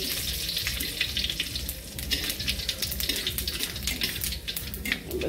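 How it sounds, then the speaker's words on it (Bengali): Cumin seeds and dry red chillies crackle and splutter in hot oil, dense rapid popping over a sizzling hiss, close and steady with no talking. "জিরেটা ফুটে উঠলো"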